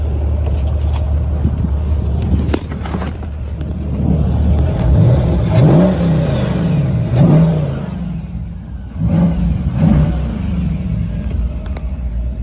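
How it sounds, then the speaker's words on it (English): A muscle car engine at a show revs up in several rising bursts over a deep idling rumble, loud and close, with the pitch climbing and falling between blips. "I'm gonna go ahead and give this thing a rev so you can hear this engine"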